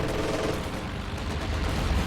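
Infantry strafe gunfire in Company of Heroes 2 rattles continuously in dense, overlapping bursts with heavy low booms, loud and close, without any voices.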